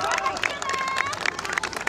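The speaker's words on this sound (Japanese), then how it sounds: "もう一度大きな拍手をお願いします" Crowd clapping at an election rally in Okinawa City, dense applause with scattered sharp claps under a murmur of voices, steady and fairly loud throughout.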